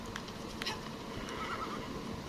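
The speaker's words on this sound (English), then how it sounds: "Okay, I'll just call my horse, Kiri." A horse neighs in the Assassin's Creed Shadows video game after being called by the player, with a short whinny and faint hoof-like clatter over steady ambient noise.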